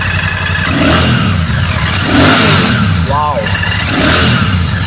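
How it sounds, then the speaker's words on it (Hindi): A 2025 Royal Enfield Classic 650 Twin's twin exhaust revs up and down repeatedly, loud and close, with a steady rumble between blips while a voice briefly exclaims. "आपको इस बाइक की मैं एग्जॉस्ट नोट सुनाने वाला हूँ. And let's fire this beast."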